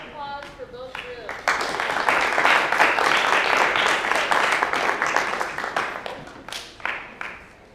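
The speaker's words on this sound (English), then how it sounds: "Alright, a round of applause for both groups." Audience applause for two competing groups in a classroom-style debate follows a brief bit of speech, with steady clapping from a modest crowd that thins to a few scattered claps.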